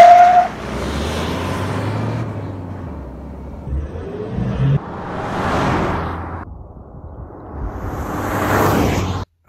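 A Toyota Fortuner accelerating hard with its throttle controller on the most aggressive setting: a loud engine surge that swells, dips and rises again over several seconds, with a whooshing rush of air.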